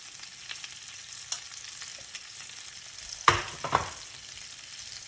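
Ground cumin, coriander and garam masala frying with turkey in a pan, a steady low sizzle with a sharp clatter of stirring near the end and a few softer knocks after.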